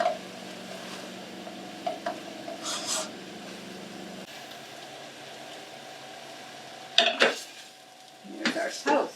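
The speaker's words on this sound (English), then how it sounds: "I'm just going to stir it a little until we start to get that going" A spoon stirs onions with salt and sugar in a pot for French onion soup, giving soft scraping over a faint sizzle, with a few sharp clinks and scrapes against the pot.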